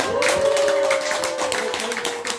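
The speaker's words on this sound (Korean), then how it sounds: "너무 건강하신 대표님 위해서 박수 한번 주세요" A seminar audience claps for a company head at a Korean health lecture, with dense, steady clapping sustained throughout at fairly close range, and no speech over it.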